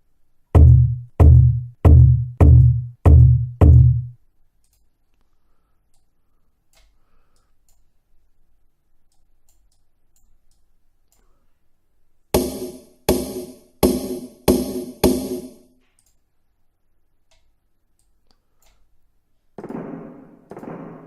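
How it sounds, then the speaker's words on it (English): Percussion samples played in turn, starting with six deep kick hits in a steady row, then a cluster of brighter snare and tom strikes after a long silence, and finally a short burst of cymbal-like hits at the end. "lots of different kinds of percussion sounds here, lots of kick sounds, hi-hat sounds, snare and toms"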